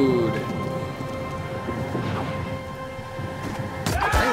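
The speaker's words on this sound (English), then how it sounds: "Storm's picking up!" A storm at sea in the game Pillars of Eternity 2: Deadfire brings a loud, steady wash of heavy rain. Rumbling thunder builds throughout and ends in a sharp crack.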